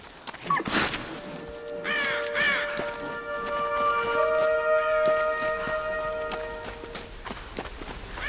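Crows caw in the Tomb Raider 2013 video game: a few harsh calls sound over wilderness ambience with footsteps, at moderate loudness and without speech.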